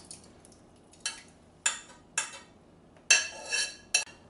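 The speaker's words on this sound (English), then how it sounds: "scooping it out, you know, one scoop at a time with a spoon or whatever" A spoon scoops and scrapes ghost pepper mash out of a container, giving about six short, bright clinks and scrapes at uneven intervals over a quiet background.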